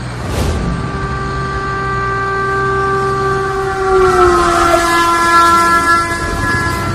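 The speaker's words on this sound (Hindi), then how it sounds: "इसी लाइन पर आगे से ट्रेन आ रही है" A cartoon train approaching along the track in a comic animated film, its loud sustained horn blaring over rumbling wheels and a faint clickety-clack, growing closer and slightly bending in pitch.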